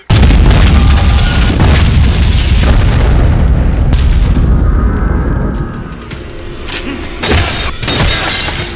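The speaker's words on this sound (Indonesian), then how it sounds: "Ledakan besar mengguncang area." A massive film explosion near a room full of oil roars and rumbles at full loudness, sustained for several seconds before easing, then another sharp burst near the end.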